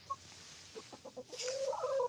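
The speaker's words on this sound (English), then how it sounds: "I have the hens." Backyard hens cluck close by in a short run of quick, chattering notes that build into a louder, drawn-out squawk near the end.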